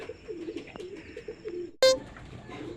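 Racing pigeons cooing softly on arrival at a club training loft in San Rafael, Bulacan, with a soft repeated coo and one sharp brief click or clatter near the end.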